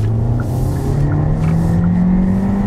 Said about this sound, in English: Engine makes a lot of noise, and when you're really revving it, it comes through the cabin, so you can hear it.